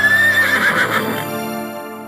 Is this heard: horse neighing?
yes